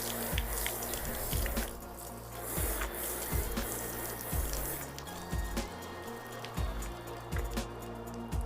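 Water spraying and dripping onto a car's bare, unprotected paint, a dense wet patter with regular soft thuds from drops, close and moderately quiet.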